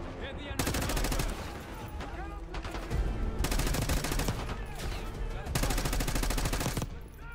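Rapid automatic gunfire in Call of Duty Black Ops 6 on PC, loud sustained bursts of several seconds each separated by short gaps, with other game sounds underneath.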